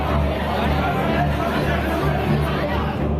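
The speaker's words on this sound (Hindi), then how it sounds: "समाजवादी पार्टी के कार्यकर्ताओं की भीड़ मीनाक्षी गुप्ता के बाहर जमा हो गई।" Crowd of Samajwadi Party workers gathered outside in Kanpur, a dense, steady hubbub of many overlapping voices and chatter close by, continuous and loud throughout.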